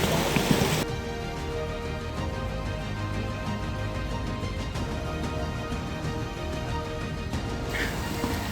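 Water pours down a waterfall along a hiking trail in the Knuckles mountain range, a steady broadband rush of falling water that continues evenly throughout.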